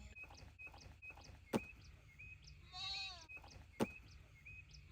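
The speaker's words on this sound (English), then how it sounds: "In here we got 8 of our 9 goats. All males, all Nigerian dwarf goats." Male Nigerian dwarf goats in a backyard enclosure on a hot day, one wavering bleat rising mid-clip over a quiet background, with two sharp clicks or knocks and faint repeating tonal chirps around it.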